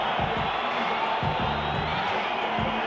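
A large crowd at a Hampden stadium boxing event in Glasgow, a steady, distant roar of massed voices filling the air, with a commentator's voice talking over it.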